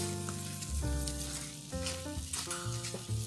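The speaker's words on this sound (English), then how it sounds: "add our pre-washed white rice. And we're going to mix that until it's well combined also." Pre-washed white rice sizzling in a pan for arroz con pollo as it is stirred in, a close steady hiss with bursts of scraping and shifting grains.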